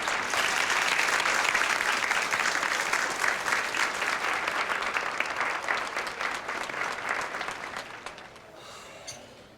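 A concert audience gives a singer a big round of applause, a loud, sustained wash of many hands that fades out near the end, leaving quiet.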